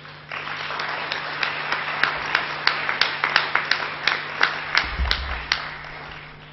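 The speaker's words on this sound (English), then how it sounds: "Please, a round of applause for them." An audience at the closing of the Adyar 2014 convention claps for the sanitation and housekeeping workers, with a steady spread of hand claps and a few sharp, distinct claps standing out over a low hum.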